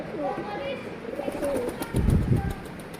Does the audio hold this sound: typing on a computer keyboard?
no